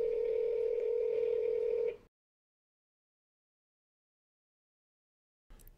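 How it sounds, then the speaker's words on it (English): A FaceTime audio call placed from a Mac through an iPhone rings out as a steady electronic tone for about two seconds, then cuts to silence, with a brief sound returning at the end. "When I click on it, it'll fire up the call, her phone will start ringing"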